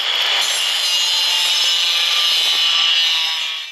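A saw cuts through a barrel to halve it for a Christmas tree collar, a loud, continuous rasping grind heard close up and alone for the whole stretch before it stops.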